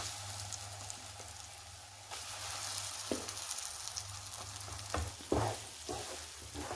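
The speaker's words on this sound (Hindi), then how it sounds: "तेल गरम हो गया है और तेल में सबसे पहले जाएगी हींग।" Moth dal and pounded spices fry in hot oil with asafoetida, a continuous crackling sizzle broken by occasional stirring clatter against the pan, loud and close.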